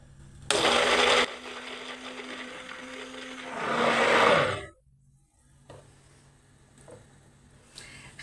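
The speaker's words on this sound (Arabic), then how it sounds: "نحكمو بغا ميكسور، نهبطو لتحت كامل ونبداو نطلعو فيها." An electric hand mixer whirs loudly as it blends homemade cooking cream, a dense buzzing that runs for a few seconds and swells, then cuts off into quiet kitchen clatter.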